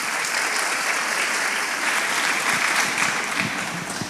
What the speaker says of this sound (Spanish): Bien, aplausos.